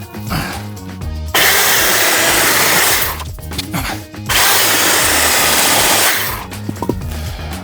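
A Procraft PKA-38 electric chainsaw cuts through wet maple, its loud, steady motor whine running in two long bursts with brief idle gaps between them.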